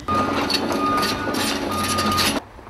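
Construction vehicle reversing near college dorms at six in the morning, loud engine rumble with a steady tonal whine and rattling noise running for a couple of seconds before cutting off abruptly.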